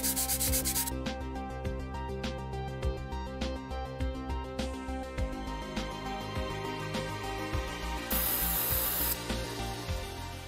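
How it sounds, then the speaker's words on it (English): A remote control battery cover is sanded by hand in quick repeated rubbing strokes, close and crisp, with short bursts of spray-paint hissing at the start and again later. "This part is the battery cover. I'm sanding it first and then spray painting it."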